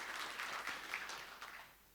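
Audience applause at an HR conference, a steady patter of many hands clapping that fades out toward the end, with no talking over it.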